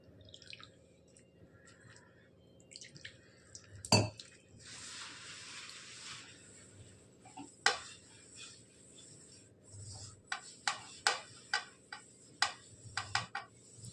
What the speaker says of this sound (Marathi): थोडंसं पाणी टाकून आपण त्याला मिक्स करून घेणार आहोत छानसं हे बघा पाणी टाकत आहे मी